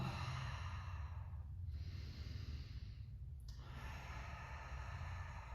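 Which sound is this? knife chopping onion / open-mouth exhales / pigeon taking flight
open-mouth exhales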